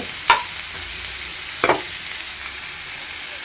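Ingredients are sautéed in a frying pan, giving a soft, steady sizzle with two sharp stirring scrapes of a utensil against the pan, heard close with no talking.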